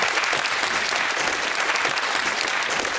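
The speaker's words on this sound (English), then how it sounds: "Give yourselves a round of applause." A quiz show studio audience gives steady, dense applause for university contestants after a University Challenge match between Oxford Brookes and Open University, loud and continuous with no voices over it.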